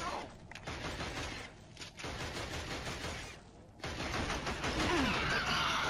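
Gunfire rattles through a firefight in the video game Killzone, a dense continuous clatter of shots with short lulls, while players talk over it.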